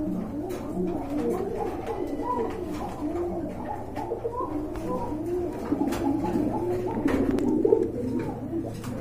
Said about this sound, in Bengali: খুবই সুন্দর একটা পেয়ার, অনেক বড় সাইজের কবুতর